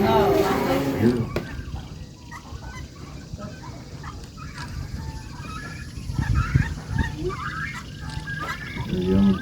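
Geese and other water fowl at a spring-fed park honk loudly and repeatedly in a noisy chorus, with a person talking over the calls at times.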